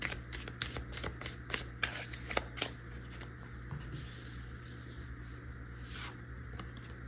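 Tarot cards are shuffled in a quiet room, giving a faint, steady run of soft riffling and flicking sounds with a few sharper snaps.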